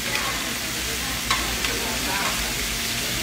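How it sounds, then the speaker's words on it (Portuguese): Cooked spaghetti tossed in a pan with crispy fried bacon and palm heart sends up a steady, close hiss of frying with faint stirring scrapes and a couple of light clicks, with no voice over it. "O bacon fritinho, palmito, agora vamos colocar o macarrão aqui"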